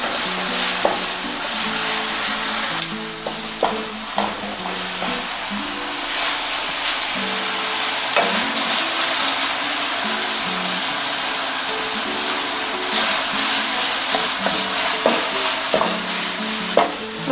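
Cajun dirty rice being stirred in a hot pan, a steady sizzle and frying hiss running throughout with scraping spoon strokes and occasional knocks, close and fairly loud, no talking.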